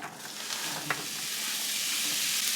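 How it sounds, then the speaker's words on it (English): Apples sizzling and frying in a pan, a steady bright hiss that builds slightly louder over the stretch, with a brief clink of stirring near the start. "Putting the apples in the pan."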